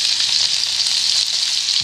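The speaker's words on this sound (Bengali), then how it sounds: "ভাজা ভাজা আমি করে নেব পেঁয়াজ কুচিগুলোকে।" A steady, close hiss of chopped onion frying in hot oil, with an unbroken sizzle and a light crackle throughout.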